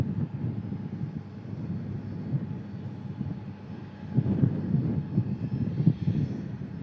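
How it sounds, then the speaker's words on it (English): An EgyptAir airliner taxiing at an airport, its engines producing a steady low rumbling roar that swells louder toward the end, with light wind noise and no talking. "So the Egyptair taxi's over as the Norwegian gets itself lined up"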